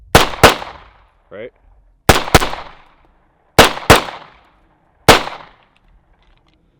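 Pistol fitted with a red dot sight fired rapidly at targets; sharp, close shots in quick pairs and singles with ringing decay, separated by short pauses, and a brief spoken word between strings.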